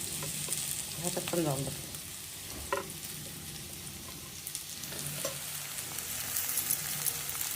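Potatoes sizzle and fry in a pan for sabudana khichdi, with scraping stirs of a spoon through the pan, steady and close, while someone talks quietly now and then.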